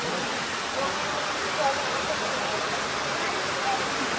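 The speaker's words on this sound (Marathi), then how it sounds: "पावसाचा आवाज ऐका फक्त" Heavy rain pours steadily on Kalsubai peak in Maharashtra during a night trek, a dense, continuous hiss with no breaks throughout.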